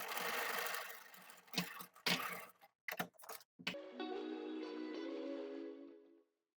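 A sewing machine stitches fabric binding in a few short stop-start bursts, then runs in one steady whirring stretch that slows and stops, close and clear with no talking.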